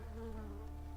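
An insect buzz from a bee in the point-and-click adventure game Black Morph, a steady droning hum with a wavering pitch that holds close and fairly loud for the whole second, with no talk over it.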